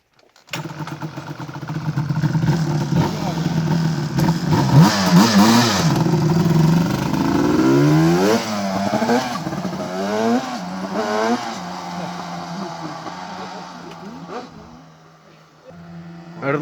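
Yamaha Banshee 350 quad engine revving loud and close through a ride, with rising and falling pitch sweeps as it accelerates and shifts, easing off near the end.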